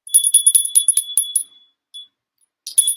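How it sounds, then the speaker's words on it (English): A small bell being examined during a live online auction rings in a rapid series of bright, high metallic strikes, then pauses and gives a few more rings near the end, clear and close. "That bell sounds pretty."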